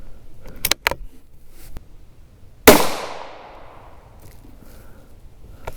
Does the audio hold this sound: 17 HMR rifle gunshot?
yes